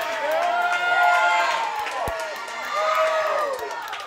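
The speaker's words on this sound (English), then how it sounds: "Listen to how fired up this crowd is." A crowd at a women's wrestling title match cheers and whoops loudly, with a commentator speaking over the roar and a brief thud partway through.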